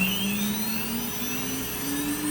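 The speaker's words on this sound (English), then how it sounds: "warming up the spindle" An AXYZ 4010 ATC CNC router spindle warms up with a steady motor whine that rises and shifts in pitch, loud and continuous, with a faint high tone above and no talking.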